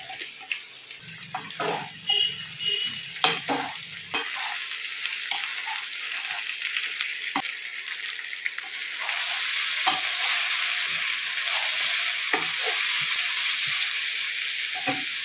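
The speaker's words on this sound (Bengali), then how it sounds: "ফ্লেমটা হাইতে দিয়ে সুন্দর করে সবজিটা ভেজে নিচ্ছিলাম" Cauliflower, pumpkin, beans and eggplant fry on a high flame in a home kitchen, a steady close sizzle broken by repeated clacks of a stirring spoon, the hiss growing louder and denser in the second half.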